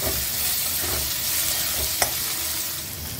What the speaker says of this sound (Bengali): এই ছোট ছোট করে এই কুমড়োগুলোকে ওই ফোড়নের মধ্যেই দিয়ে দেব।